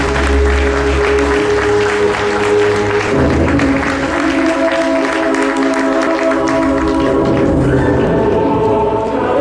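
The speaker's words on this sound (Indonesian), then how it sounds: "tepuk tangannya Bapak Ibu" Sustained audience applause at a seminar talk show, over a loud backdrop of music, the clapping steady and full for several seconds.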